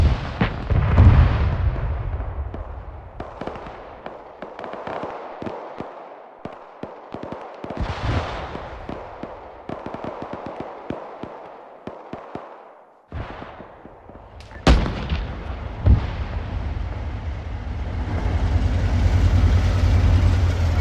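A tank fires during an Arma battle, its heavy booming shots mixing with rapid gunfire bursts and explosions over about twenty seconds, with a loud blast midway and rumbling engine noise building toward the end.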